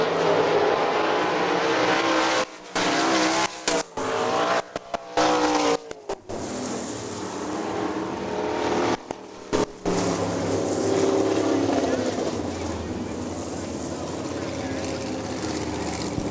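Sprint cars roar around the dirt oval at Hartford Speedway Park during a 20-lap main event, loud engines droning and surging with passes, broken by brief gaps, while an announcer talks over the racing.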